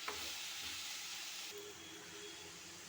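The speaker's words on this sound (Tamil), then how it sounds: "இப்போ இதையும் நல்லா வதக்கிக்கணும்." Drumstick leaves sautéing in a pan give off a steady, close hiss and sizzle, with a small clatter at the start and a brief dip in the sizzle midway.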